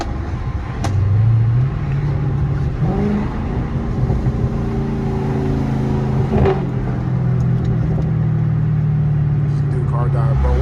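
A Chrysler 300 392 Scat Pack with a burble tune driving through city traffic, its V8 engine droning loudly and steadily with occasional rev swells, alongside a voice talking.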